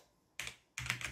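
Keys clack on a computer keyboard during a Windows 11 setup sign-in, two short close bursts of quick typing separated by a brief pause.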